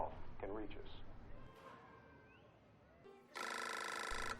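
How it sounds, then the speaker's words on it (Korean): A telephone rings with a bright, buzzing electronic tone near the end, following a stretch of quieter ambient sound, in a dramatized scene about the Zodiac killer case. "그때 진짜로 걸려온 전화."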